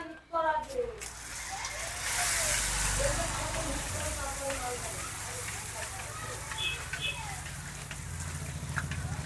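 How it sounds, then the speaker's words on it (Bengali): Fuchka puris frying in hot oil in a village where families make them, a continuous crackling sizzle with bursts of bubbling, heard close while voices talk over it. "বেলা হতেই কিন্তু ফুচকা পাড়ায় সবাই ফুচকা ভাজতে আরম্ভ করে দিয়েছে"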